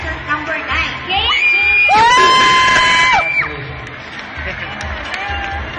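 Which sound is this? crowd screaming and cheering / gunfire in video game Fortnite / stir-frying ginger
crowd screaming and cheering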